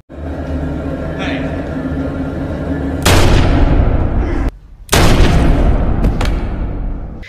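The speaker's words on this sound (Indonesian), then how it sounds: "menyerang balik dengan pistol milik Irina yang tersimpan di dalam laci meja kamarnya" Pistol shots in a narrated crime drama, heard as loud sudden bursts over a continuous dense background, with a brief drop to near quiet between the two main blasts.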